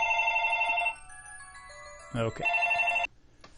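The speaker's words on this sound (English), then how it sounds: "It's one of those combinations where it rings your cell phone into your home phone." A new phone, a cell line forwarded to a home phone, rings with loud electronic tones in two bursts. A brief spoken word falls in the gap between them.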